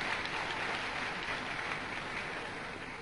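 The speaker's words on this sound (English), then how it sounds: "A round of applause for the audience." Audience at a 2015 Oyo State governorship debate at the University of Ibadan gives a steady, dense round of applause that continues throughout without voices.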